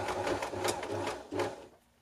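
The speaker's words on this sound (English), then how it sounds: "you then just flip it to the inside and zigzag along it again" A sewing machine runs zigzag stitches attaching lingerie elastic to curling mesh fabric, a close, loud mechanical whir in short bursts with brief pauses, stopping near the end.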